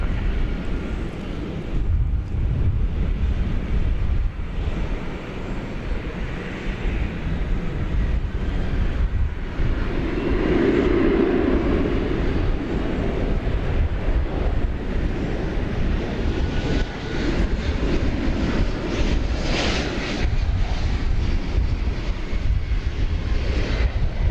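FedEx Boeing 767 at DFW Airport, a sustained jet engine roar heard from a distance for over twenty seconds, swelling slightly midway with a rumbling, airy wash and no talk.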